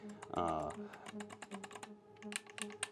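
Buttons on a Fanatec Podium GT3 Endurance carbon-fiber steering wheel click in a quick, close series of crisp, firm presses, quiet and alone.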